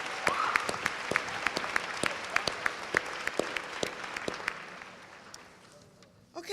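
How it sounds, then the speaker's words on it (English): Audience clapping for speakers at a panel discussion, a steady round of applause with sharp individual claps that tapers off and fades near the end. "Let's give them a warm round of applause."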